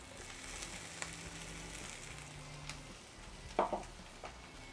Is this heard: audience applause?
no